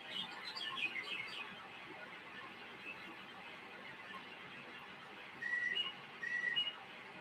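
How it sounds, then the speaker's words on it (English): Faint recorded birdsong played back, chirping and whistling at a distance over a low background hiss, with a couple of brief, higher tweets near the end. "These are fake birds you're hearing today."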